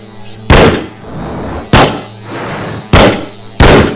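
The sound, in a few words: firecracker-like buzzing, whizzing and banging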